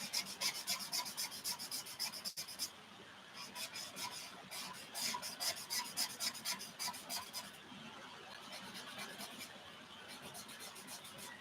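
Chisel-tip marker rubbing across paper to colour large areas, quick rhythmic back-and-forth scratchy strokes, close and fairly quiet, pausing briefly partway through.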